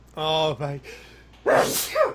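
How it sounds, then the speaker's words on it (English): A loud, close sneeze bursts out alone after a man's exclamation and a stretch of voices, with a brief breathy tail after the burst. "Stop sneezing."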